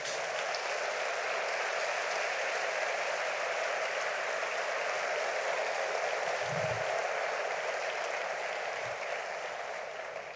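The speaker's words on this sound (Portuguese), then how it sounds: "dê a sua melhor salva de palmas" Congregation applauding in a church service, a steady, even wash of many hands clapping that sounds somewhat distant and hiss-like and holds for ten seconds, with a couple of brief low thumps partway through.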